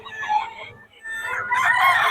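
A rooster crows at a busy market day in Bocaue, with two drawn-out calls separated by a short gap, loud and close, over faint crowd murmur.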